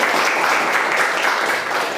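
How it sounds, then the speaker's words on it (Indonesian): A class of students applauds together, producing a loud, dense burst of clapping that stays steady and unbroken for about two seconds. "Tepuk tangan untuk Anda semuanya"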